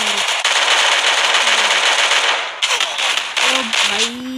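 Rapid bursts of shotgun fire in the Free Fire Clash Squad video game, loud and close, with dense crackling blasts that pause briefly and resume, under excited talk.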